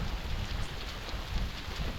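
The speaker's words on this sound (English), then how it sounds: "It's hailing right now, by the way." Hail comes down in springtime Alaska, a close, rough patter of pellets striking surfaces in uneven bursts, with a low rumble underneath and no voices.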